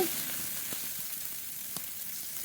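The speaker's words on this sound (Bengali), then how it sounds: "দুটো মাছের মাথা দেবো, আর একটু কষিয়ে নেব। বেশ খানিকক্ষণ ধরে ভালো করে কষিয়ে নিয়েছি" Fish heads sautéing in a pan give a steady, even sizzling hiss with faint scattered crackles and a sharp clink right at the end.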